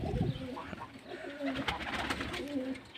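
Pigeons coo near a bird enclosure, several soft low rolling coos repeating through the stretch over a busy background of rustling and faint chirps, fairly close.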